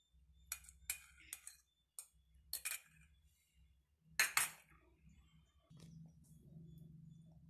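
Chicken pieces being mixed by hand with salt, ginger garlic paste, spices and an egg in a bowl for Chicken 555, giving a run of soft clinks and wet squelching bursts, close up, with a steady low hum underneath.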